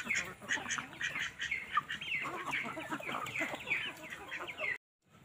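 Ducks quack in a busy, overlapping chorus as they hurry in to be fed, with clucking fowl mixed in, close and lively before stopping abruptly.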